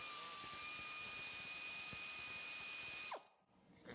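Ratcheting wrench pulling the last bolt from a lawn mower engine during a four-cylinder mower build, a steady close mechanical whir with a tonal line and quick clicks for about three seconds before it stops.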